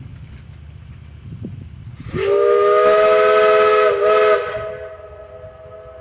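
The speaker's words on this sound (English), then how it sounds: "when the engineer blows the whistle one more time" A narrow gauge steam train whistle on the Cripple Creek & Victor Railroad blows one long, loud, steady blast with hissing steam, a brief dip near the end, then fades out.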